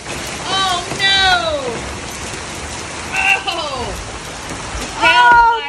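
Heavy rain pours steadily during a tornado-watch storm, a dense hiss throughout, while excited voices speak over it in short exclamations.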